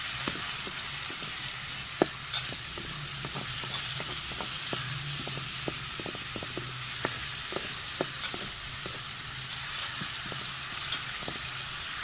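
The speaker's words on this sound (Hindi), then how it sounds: "प्याज को ब्राउन कर लेंगे।" Ground onions browning in hot oil in a pan, a steady soft sizzle broken by frequent sharp scrapes and taps of a stirring utensil.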